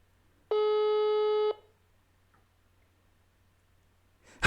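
A single electronic phone tone sounds for about a second, a steady buzzing beep that cuts off sharply, followed by near silence and a faint click.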